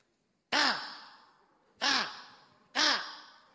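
Three harsh crow caws, spaced about a second apart, loud and close, each trailing off quickly into silence.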